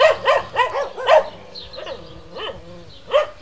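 Dogs bark near a home on a weekend, a quick run of loud sharp barks followed by scattered yips and a few more barks after a pause.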